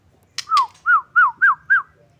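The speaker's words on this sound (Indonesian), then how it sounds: "Nah ini salah satunya burung yang jinak tapi dia enggak lulut sama manusia ya." A tame pet bird gives a short series of five clear descending whistles at an even pace, close and loud, preceded by a brief squawk.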